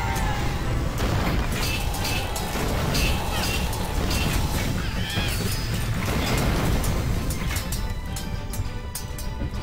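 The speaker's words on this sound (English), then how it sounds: "We're bringing out a lot more cannons now." Loud, continuous booms and blasts from cannon fire and explosions in the video game Royal Revolt 2, a dense, chaotic barrage with no clear pauses.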